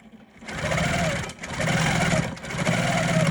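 A sewing machine runs in three bursts of fast, steady stitching with short pauses between, close and fairly loud, while free motion quilting a hexie-patterned stocking piece.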